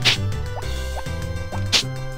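In the Harvest Moon: Back to Nature video game, a watering can pours onto crop fields, giving soft repeated splashy drip sounds in a quick rhythm over a game music backdrop.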